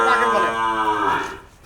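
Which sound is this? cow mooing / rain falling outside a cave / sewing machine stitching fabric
cow mooing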